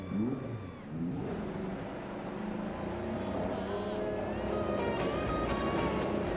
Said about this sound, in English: And you can hear the engines firing.